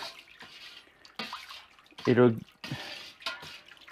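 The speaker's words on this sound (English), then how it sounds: "I'll actually use this to fill my fermenter up." Water from a tap runs into a home-brew fermenter while making an extract Australian bitter, coming in intermittent gushes and splashes between bursts of someone talking.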